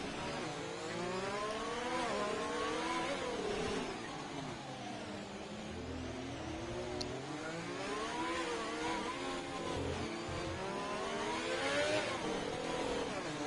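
Race cars circle the Monaco street circuit at the IRS Monaco race, a steady, continuous engine drone that rises and falls in pitch as they pass and accelerate onto the front straight, with no talk.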